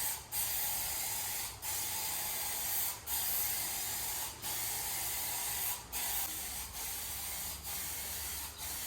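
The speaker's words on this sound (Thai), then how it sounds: "เป็นสเปรย์นะคะทุกคน" A spray bottle mists liquid onto bathroom window glass in repeated hissing bursts, about seven pumps in an uneven rhythm with short pauses between them, close and clear, with no talking.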